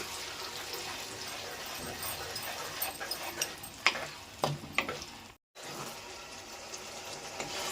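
Tamarind cooking in oil for a pickle, a steady low sizzle and bubble with a few louder pops and stirring scrapes near the middle and a short cutout, heard up close.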